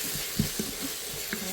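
Ground spices including coriander powder sizzle in a hot pan while being stirred for a lamb feet curry, a steady close hiss with a few soft scraping knocks.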